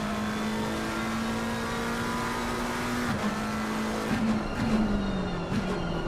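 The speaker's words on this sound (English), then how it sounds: "See how he's doing in a McLaren. That engine sounds quite nice." McLaren GT race car engine in a racing game at Zolder, a loud steady onboard drone held at a high pitch, dipping briefly near the end as the car shifts or brakes.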